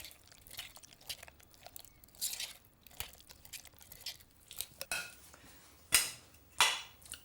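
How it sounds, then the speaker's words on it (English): Drained non-cream-style canned sweet corn being stirred in a bowl, with irregular scraping and clinking of a utensil against the bowl that builds to a few sharper, louder clatters near the end, with no talking. "Hang on, just give it a bit of a stir."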